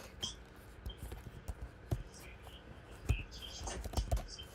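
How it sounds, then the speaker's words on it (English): Typing on a computer keyboard, soft irregular clicks and taps close by at low level over a faint background hiss, with no speech. "I'm typing stuff up as we speak."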